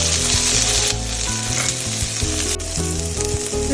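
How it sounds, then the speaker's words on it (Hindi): Peas and corn sizzle steadily in a spoonful of hot ghee, with loud continuous frying hiss and occasional stirring scrapes in the pan, no voices. "इसी तरह ये मैंने मटर और साथ में ही कॉर्न लिए हैं, इनको भी बस मैं 1 चम्मच घी का डाल के थोड़ा सा सौटे कर लूंगी।"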